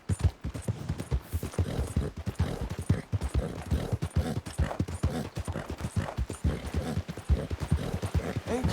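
Steady clip-clop of a horse's hooves at a trot in the Red Dead Redemption video game, a continuous rhythmic patter close up and fairly loud throughout, with no talking over it.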